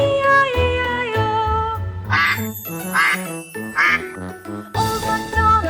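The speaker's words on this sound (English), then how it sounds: "With a quack quack here and a quack quack there" Cartoonish duck quacks sound three times in a row, loud and evenly spaced, over a bright children's nursery rhyme tune with chimes.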